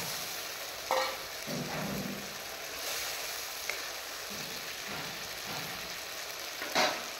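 Spice masala for a fish curry with salt and tomato fries in a pan, a soft, steady sizzle broken by spoon scrapes and clinks as it is stirred, fairly quiet and without talk.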